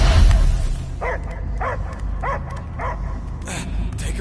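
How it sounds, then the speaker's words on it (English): A dog barks in a regular series of five or six sharp yelps over a steady rumbling game soundscape in Guardians of the Galaxy, moderately loud with no talk over it. "I hear only barking."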